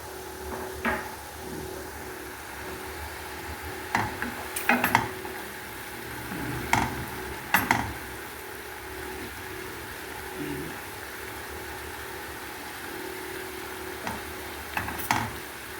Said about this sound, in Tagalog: bagoong na alamang salted tini shrimp. Yan po ang gigisahin natin.